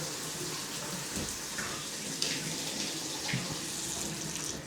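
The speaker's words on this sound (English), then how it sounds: "Make sure the shower maintains water pressure as the toilet refills" Continuous rushing of running water from a shower while a toilet refills, a steady hiss with faint splashing and no voices.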